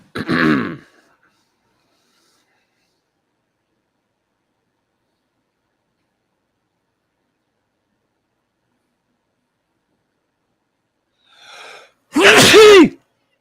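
A person with an allergy sneezes loudly and close by during a group livestream. One sharp sneeze comes at the start, then long silence, then a breathy intake and a second forceful sneeze near the end.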